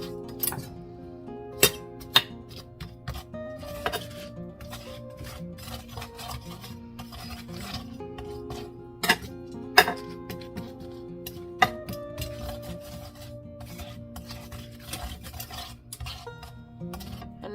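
A small spatula scraping and clinking in a pan while spreading candied pecans evenly, giving soft rubbing strokes punctuated by sharp metallic taps over a faint background hum.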